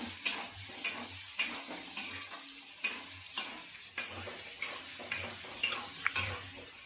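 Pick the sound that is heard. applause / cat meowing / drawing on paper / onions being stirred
onions being stirred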